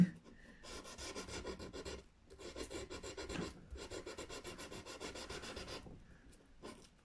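The plastic nut of a Telecaster-style guitar gets a light polish, heard as close, faint back-and-forth rasping strokes in three bursts separated by short pauses, with no talking.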